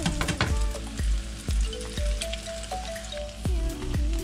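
Two eggs hit a hot pan during home cooking of char kway teow, made without a wok, and sizzle loudly, with sharp crackles and repeated scraping stirs and spatula knocks over a constant frying hiss.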